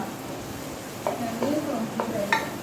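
Fish sizzling as it fries in a pan for a Tamil fish curry meal, with a steady frying hiss and a few short clinks and stirring scrapes of utensils against the pan, close and moderately loud.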